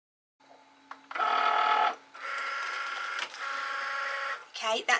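A Cricut cutting machine loads a mat with a mechanical whirring hum in three sustained bursts, close and fairly loud, followed by a brief rattling stop.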